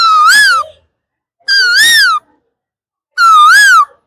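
A human voice mimics an Asian koel, the cuckoo, with three loud, close, whistle-like calls that rise and fall, evenly spaced with short silences between them.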